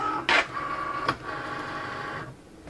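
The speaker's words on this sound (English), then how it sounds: "Enter it into your Cricut. Make sure you get your mat under both tabs. Hit the load button." A Cricut cutting machine loads its cutting mat with a short mechanical whir, a click and a steady motor hum that fades out near the end, close by and fairly quiet.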